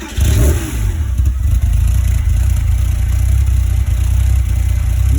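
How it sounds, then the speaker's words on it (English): A Porsche Boxster engine idling close by with a deep, rough rumble, briefly revving at the start before settling into a steady low drone. "Listen to that engine purr like a dying kitten."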